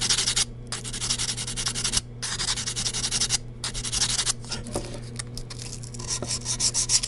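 Sandpaper worked by hand across a guitar nut during refret shaping, giving close, steady scratchy strokes in a regular back-and-forth rhythm with brief pauses between passes and no voices.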